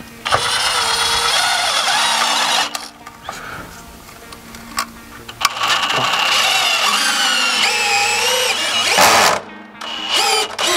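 Power drill driving screws into wood blocking beneath deck treads, with several loud high-pitched whirring bursts separated by short pauses, close up.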